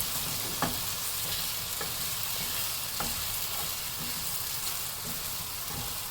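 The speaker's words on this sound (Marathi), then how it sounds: "छान ह्या लसणीमध्ये ही कोलमी अशी मिक्स करून घ्यायची" Prawns being tossed and stir-fried in garlic for a spicy prawn pickle, giving a steady close sizzle of frying with soft stirring scrapes and occasional light clicks of the utensil, no talk.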